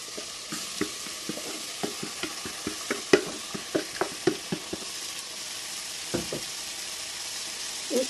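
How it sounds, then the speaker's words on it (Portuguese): Tomato going into a frying pan with browned pork ribs, loud sizzling joined by a string of sharp clanks and scrapes as the food is stirred, busy and close for about five seconds, then quieter sizzling with a few more taps. "Agora vou colocar o tomate."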